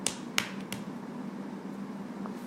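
Sharp, quick hand claps sound close by in a quiet room, a couple of crisp snaps in quick succession near the start, followed by near silence.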